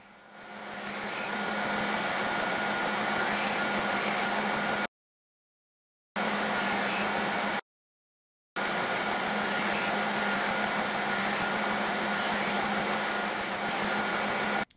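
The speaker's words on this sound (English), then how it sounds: "Then I'll refine the lines moving up through 60, 120, and 220 grit belts." A belt grinder bevels a knife blade on grit belts, giving a loud, steady motor and abrasive hum that runs continuously, broken by two short gaps of silence.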